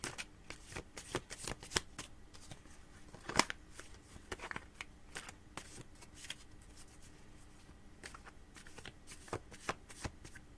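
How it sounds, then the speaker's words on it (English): Tarot cards get shuffled by hand in quick irregular riffles and soft slaps, a continuous close papery flutter with sharp clicks scattered throughout, no voices. "I've been shuffling now for 11 minutes, so they should be good and ready."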